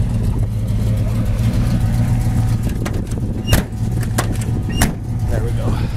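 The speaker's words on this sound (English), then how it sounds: "It's got a really nice sounding dual exhaust on it." A 1968 Chevrolet Camaro SS with dual exhaust holds a steady, loud, low engine rumble throughout, with a few brief sharp clicks partway through and a voice talking over it.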